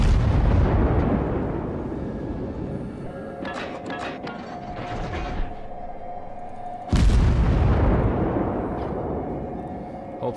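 Heavy booms from warship guns firing high-explosive shells in the World of Warships naval battle game, with a big blast at the start, a second loud burst later and a rumbling wash of battle noise in between.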